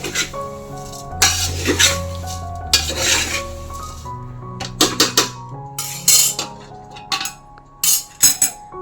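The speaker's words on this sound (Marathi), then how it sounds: "आता हे सगळे पोहे टाकले तेलात परतून घ्यायचे" Thin poha flakes fry in oil over a low flame while being stirred and tossed, giving a soft sizzle under repeated loud metallic scraping and clinks of a spoon against the pan.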